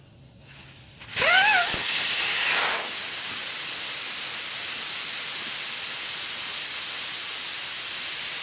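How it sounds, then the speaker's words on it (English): Air rushes out of a truck tire with the Schrader valve core removed, a sudden loud, steady hiss that keeps going unbroken after a brief squeak at the start. "I had my Schrader valve removal tool, unscrewed the Schrader valve, let all the air out."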